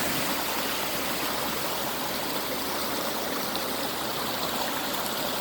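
A small feeder creek on an Illinois farm flows with a steady, loud, close rush of water that stays even throughout.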